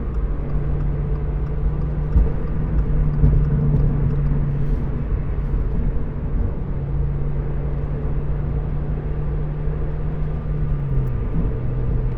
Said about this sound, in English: there's a lot of traffic here